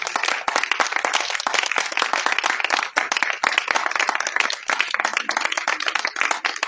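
A church congregation claps loudly and densely together during an intense evening prayer service, a close, continuous burst of many hands with no speech over it.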